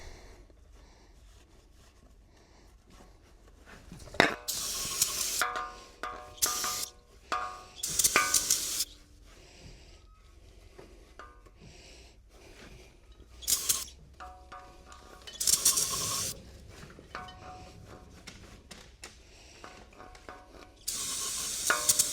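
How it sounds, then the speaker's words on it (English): Brake cleaner is sprayed onto engine parts during an N14 Cummins diesel overhaul, several sharp hissing aerosol bursts of varying length separated by clinks and handling noises, close to the microphone. "So we're just going to brake clean"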